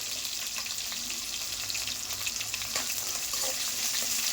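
Onions fry in a pan for fried idly, a steady close sizzle with occasional stirring scrapes and clinks throughout, at a fairly soft level.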